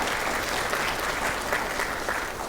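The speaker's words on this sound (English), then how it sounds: "can we give him a round of applause?" A conference audience at a security session gives a round of applause for a speaker named John, a dense, steady clapping that fills the whole stretch without voices over it.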